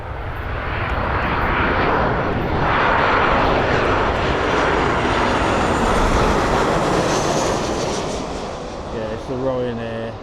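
A Ryanair passenger jet takes off at Malaga airport, its loud engine roar rumbling steadily and broadly over about ten seconds while strong wind blows, then fading as a voice begins speaking near the end.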